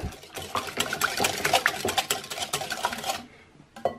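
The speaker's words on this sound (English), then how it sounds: "And just give them a little whisk to smooth them up." Eggs being whisked for a low-carb pumpkin pie filling, rapid clinking and tapping of a whisk against a bowl, steady and close, then a pause and one final tap.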